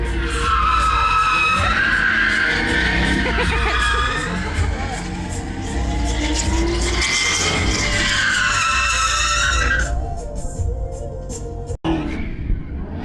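Cars drift at a Mecum Auctions event in Kissimmee with long, loud tire screeches and engine roar. A crowd whoops and screams nearby, and the noise cuts out sharply near the end.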